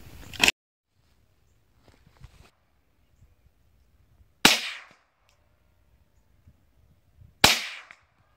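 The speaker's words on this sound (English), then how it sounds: "we're going to be shooting it with a 22" A .22 rifle fired at sensitive Tannerite targets set far out in a field, three sharp cracks spaced a few seconds apart, each with a short echoing tail, quiet rustling between shots.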